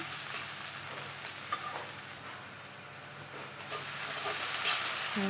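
Onions sizzle steadily in hot mustard oil with bay leaf and salt, a dense, even frying hiss close up with a few soft stirring knocks, growing slightly louder toward the end, no voices.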